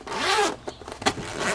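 A zipper on an Alps OutdoorZ Pathfinder hunting pack is pulled open in a quick, close rasp, followed by a few short tugs and a final zipping sweep.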